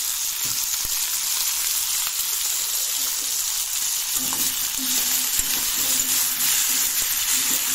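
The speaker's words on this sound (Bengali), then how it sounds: "কিছুক্ষণ ফ্রাই করে নিই ভালো করে, সুন্দর করে।" Potatoes and fish with salt frying in a pan, a steady dense sizzle close by, with faint clinks of stirring.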